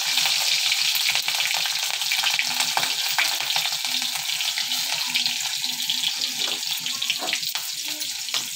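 Cumin seeds sizzle and crackle in hot oil in a pan while making poha, a steady close frying hiss with occasional stirring and scraping sounds, no talk.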